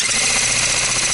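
A drill bores down into a piece of driftwood for a repurposed lamp, giving a loud, steady grinding whir that holds constant for about a second, close to the microphone and alone.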